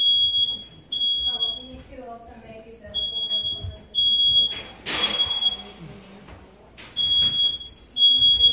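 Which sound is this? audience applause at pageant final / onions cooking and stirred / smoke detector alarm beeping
smoke detector alarm beeping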